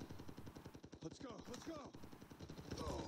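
Rapid gunfire in COD Mobile: a quiet, regular automatic rattle of shots running through the moment, mixed with brief voice sounds.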